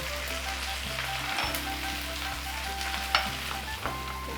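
Soya chunks and diced capsicum frying in oil over a high flame, a steady close sizzle with a few brief stirring clatters and no voices.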